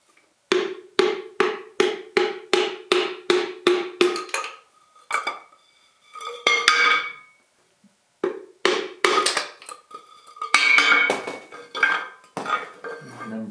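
A steady run of sharp metallic hammer blows drives a dowel to push a piston out of a John Deere 755 engine. About a dozen evenly spaced strikes come first, then scattered taps and another rhythmic burst, loud and close, with no talking.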